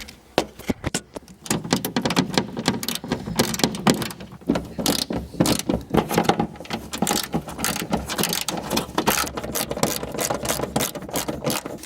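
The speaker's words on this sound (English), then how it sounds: "take your 10 and unscrew those" Ratchet with a 10 mm socket unscrewing bolts near a window while rear speakers are installed in a 2005 Hyundai Sonata, loud close rapid clicking in bursts with brief pauses, alone without talk.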